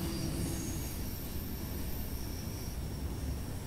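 A train moves off in Train Sim World 4, a low, steady rolling rumble with faint high rail hiss, distant and quiet, continuous without breaks.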